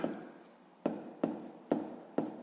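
Pen writing out a math calculation on paper, a series of short scratchy strokes in a loose rhythm, close and quiet, with a few distinct taps between them.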